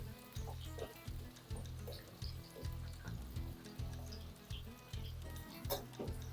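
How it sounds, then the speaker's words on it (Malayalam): Mango pieces fry in hot oil with a quiet, steady sizzle, pulsing in short repeated bursts as they bubble, with occasional small pops and no talking. "ഇത് ഇതുപോലെ അടന്ന് നമുക്ക് വറുത്തെടുക്കാം."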